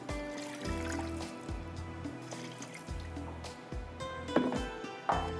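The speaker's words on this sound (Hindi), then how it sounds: "थोड़ा सा इसमें डालेंगे पानी।" Water trickles and splashes into a pot of ginger and garlic in a short pour, over a steady low hum of background tones.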